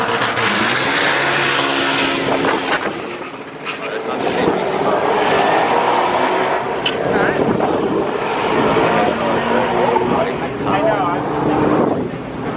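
A Honda race car roars at Maple Grove Raceway during a drag racing callout event, loud sustained engine noise with wind buffeting the microphone and crowd or announcer voices mixed in.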